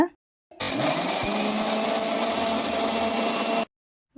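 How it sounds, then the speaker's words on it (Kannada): Mixer grinder grinding a coconut masala with water, a loud continuous motor whir close up lasting about three seconds, starting and stopping abruptly. "ಇದಕ್ಕೆ ಸ್ವಲ್ಪ ಸ್ವಲ್ಪ ನೀರು ಹಾಕ್ಕೊಂಡು ಇದನ್ನು ಮತ್ತೆ ಗ್ರೈಂಡ್ ಮಾಡ್ಕೊಳ್ಳೋಣ"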